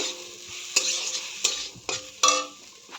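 Orange pieces are stirred in a cooking pan for chutney, giving several distinct scraping strokes over a soft, steady sizzle, close and moderately loud, with no talking.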